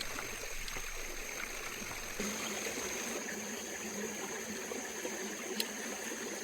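Water rushes steadily through a gold sluice box fed straight from a creek bank, a constant close trickling wash with no voices over it.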